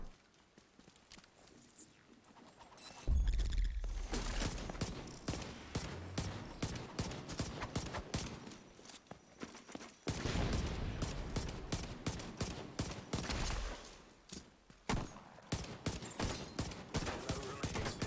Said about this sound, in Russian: Фейерверк патриота плюс фейерверк от этого глобального события весело.